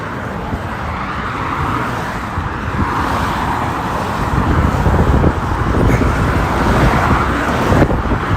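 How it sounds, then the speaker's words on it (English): Heavy road traffic crossing a bridge into Washington, DC, a steady broad rumble of cars and tires mixed with gusty wind buffeting the microphone, growing slightly louder toward the end. "Traffic is so much worse here going across this bridge."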